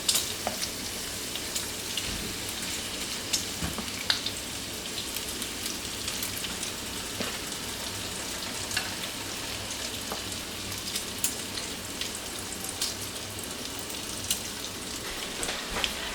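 Chicken pieces frying in a pan give a steady, dense sizzle with scattered pops and crackles, even and moderately loud for the whole stretch, no voices.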